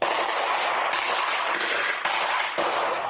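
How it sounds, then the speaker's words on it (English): A home Ring camera near a residential street picks up several loud, sharp gunshots in quick irregular succession, close and harsh, with no talk. "A Ring camera on a home nearby captured the sound of the gunshots."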